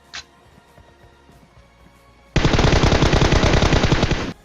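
Rapid automatic gunfire in a shooting video game erupts after a quiet stretch, a loud sustained burst of fast, evenly spaced shots lasting about two seconds.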